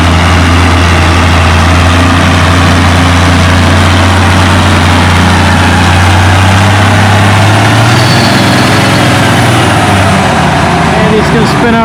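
Diesel engine of a Farm Fresh D21 tractor at a tractor pull on wet clay, running loud and steady with a deep drone throughout, crowd and announcer voices mixed in over it.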